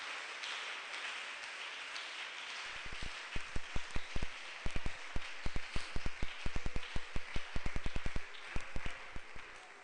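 A church congregation claps at a worship service, first as a soft wash of applause, then as loud, steady rhythmic clapping that keeps a regular beat through most of the stretch, with no speech over it.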